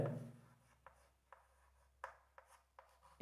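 A pen writes out a probability solution by hand on paper, making soft close scratching strokes in short repeated bursts over a quiet background.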